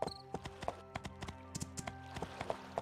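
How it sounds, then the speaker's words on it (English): Horse hooves clip-clop in steady, evenly spaced beats while a rider travels in My Time at Portia, close and clear over a quiet game soundtrack. "get on my horse"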